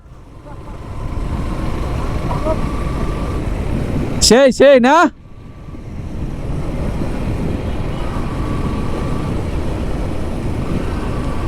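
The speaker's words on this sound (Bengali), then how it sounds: "এই যে আমার বাইক চালাইতেছে" A Suzuki Gixxer Monotone motorcycle is ridden, with a steady low engine and wind rumble throughout, broken by a short burst of sharp warbling tones midway; a voice speaks briefly.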